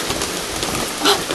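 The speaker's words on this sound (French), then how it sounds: "Ah oui, là c'est la pluie." Rain falling steadily on a garden where succulent cuttings are being repotted, a continuous dense hiss with a brief louder patter of drops near the end.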